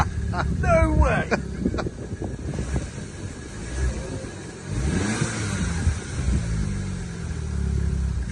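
A project car's engine catches and runs, a rough rumble settling into a steady idle with some wind buffeting the microphone, while people talk excitedly over it.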